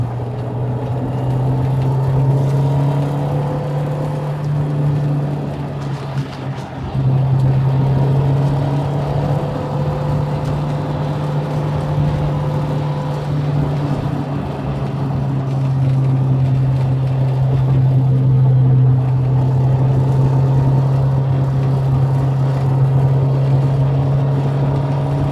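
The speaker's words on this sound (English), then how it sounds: "Hopefully you guys can hear me above the engine and the rattles and all the other Corolla noises." A Toyota Corolla AE86 with a 4AGE engine and six-speed gearbox drones steadily while driving on a mountain road, a loud constant engine hum with light rattles, dipping briefly once as the throttle eases.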